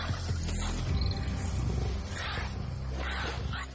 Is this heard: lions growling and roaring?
yes